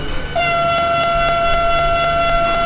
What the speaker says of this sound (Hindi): ब्रेक्स हमने रिलीज़ कर दिया, लंबा सा हॉर्न बजा देते हैं।